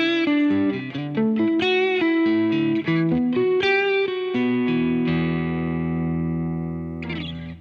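Clean electric guitar through a Boss GX-100 deluxe combo amp model playing a melodic run of single notes and chords, warm and full, ending on a long sustained chord that slowly fades.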